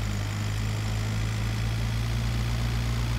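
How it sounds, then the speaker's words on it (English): A vehicle engine in the video game PUBG, sounding like a moped, idles with a steady, loud, low droning hum and a faint rhythmic throb, continuous throughout with no voices. "They probably think it's a moped because this thing sounds so shit."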